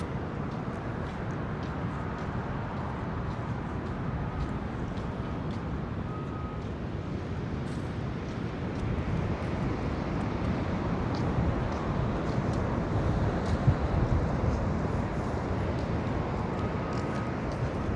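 Steady wind roars across the microphone along San Francisco's Great Highway, a constant low rumble with no voices, holding the same level throughout and swelling slightly toward the end.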